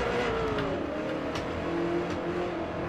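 A Ford GT MK1 race car engine in the video game Forza Motorsport whines and revs through a shift into third gear, rising in pitch then holding steady, with a faint squeal of tires underneath.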